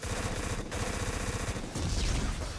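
Full-auto gunfire in the video game Black, dense rapid bursts of shots crackling almost without pause, with a brief gap and a louder blast near the end.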